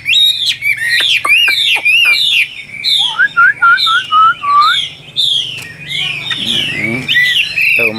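A Chinese hwamei songbird sings loud and close, pouring out rapid varied whistles, slurred notes and chattering trills in bursts with short pauses between phrases.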